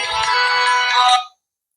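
A phone ringtone for an incoming call from a mother plays loud and close as a bright, melodic tone, then cuts off abruptly about a second in, leaving silence.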